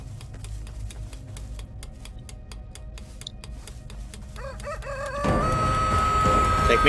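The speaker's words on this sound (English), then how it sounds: "Chicken." In a video game, a chicken clucks over a rapid, steady clicking. A loud, sustained crow then bursts in near the end over a rising background.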